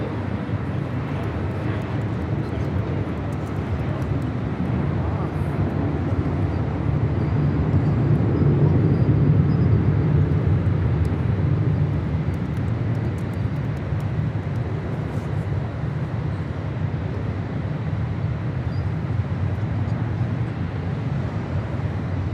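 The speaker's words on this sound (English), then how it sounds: "That is Hawaiian Airlines Flight 33 departing to Kahului on an A330-200." A Hawaiian Airlines Airbus A330-200 departs runway 24 left at LAX with a long, broad jet roar. The rumble swells to a peak near the middle and then slowly recedes, heard from a distance with no talk.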